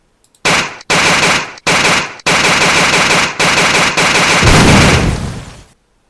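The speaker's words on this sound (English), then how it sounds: "Oh, and of course you can also use a mounted weapon." Loud mounted machine gun fire in a video game, long sustained bursts separated by brief pauses, close and harsh, with the final burst rumbling heavier before cutting off.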